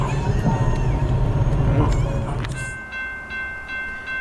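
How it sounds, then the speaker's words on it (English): A westbound priority manifest freight train hauled by C44-9W locomotives rolls past heading into a city rail yard, a loud low rumble for the first two and a half seconds before dropping away, with a steady tonal whine lingering afterward. "here comes our westbounder H train, or a priority manifest unit, as it proceeds to enter the city and into Cherokee Yard"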